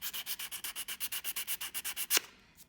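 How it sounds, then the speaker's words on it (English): Sandpaper rubbed back and forth along the edges of plain wooden quilt pieces, about fifteen quick even strokes in a steady rhythm, close and distinct, ending with a knock and a short fainter scrape. "I'm just going to take my sandpaper"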